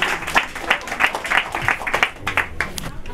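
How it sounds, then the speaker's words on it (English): An audience claps for a poet at a live spoken-word open-mic event, with dense and lively applause from a close crowd, bursts of individual claps, and a brief low murmur near the end. "Everybody give a warm welcome to Sunlight, the poet. Clap it up, clap it up."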